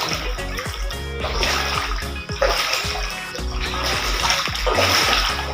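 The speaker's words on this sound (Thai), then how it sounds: "ถ้าทางบ่อปลาล้นมาอีกแล้วหนักกว่าเก่าอยู่" Floodwater from an overflowing fish pond rushes and splashes through a flooded village in Chan Sen subdistrict, Thailand, a continuous close, loud churning with repeated surges of spray over a low steady rumble.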